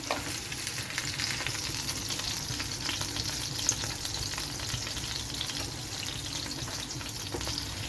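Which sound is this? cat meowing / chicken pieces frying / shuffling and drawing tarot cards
chicken pieces frying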